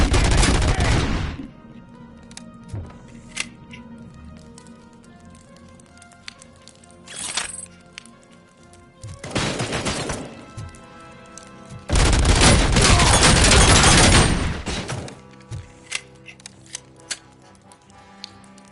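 Automatic gunfire in the Robocop Rogue City video game, loud sustained bursts of rapid shots around a few separate stretches, with brief pops and quieter game sounds in between.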